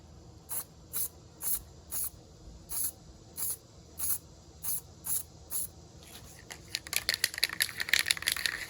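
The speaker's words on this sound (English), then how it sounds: "We'll just build up a little primer on it." Short bursts of aerosol primer spray build up a small touch-up on a scratch in a custom car paint job, about ten evenly spaced hisses followed by a rapid run of quick, dense spurts, close and fairly loud.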